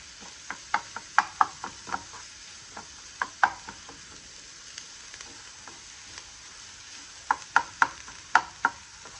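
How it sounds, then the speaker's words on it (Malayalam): Egg and vegetables being stirred together in a pan for breakfast: a spatula clicks and scrapes in quick irregular clusters over a faint, steady sizzle. "ഇനി നമുക്ക് വെജിറ്റബിൾസൊക്കെ കൂടെ ചേർത്ത് മിക്സാക്കി നന്നായിട്ട് മിക്സ് ചെയ്ത് കൊടുക്കാം"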